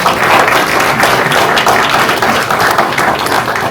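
Audience applause at a Chicago house music talk, a dense, steady wash of many hands clapping at full strength for a few seconds with no voices.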